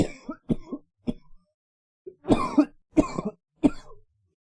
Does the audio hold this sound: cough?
yes